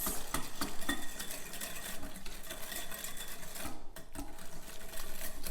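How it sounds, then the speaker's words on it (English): A whisk scrapes and clatters quickly around a bowl, mixing melted ingredients into brown sugar, with a steady, close, busy rhythm and no talking. "I'm going to add it to my brown sugar and whisk it."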